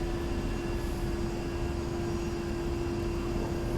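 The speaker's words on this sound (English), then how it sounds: "that was a buttery smooth landing" A jet aircraft lands on a runway in the flight simulator DCS World, giving a steady, even engine drone with a constant tonal whine and no voices.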